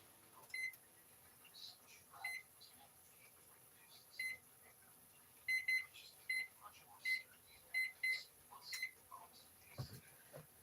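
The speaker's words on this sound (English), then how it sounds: "I'm going to go ahead and put it on the timer." Kitchen timer beeping in a home kitchen, repeated short high electronic beeps in uneven bursts, moderately close, with quiet background shuffling.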